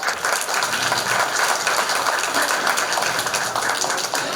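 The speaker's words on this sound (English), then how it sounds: "Please give her a big round of applause." Audience applause at a school assembly for a kindergarten class event, a dense, steady wash of many hands clapping that holds evenly throughout with no voices standing out.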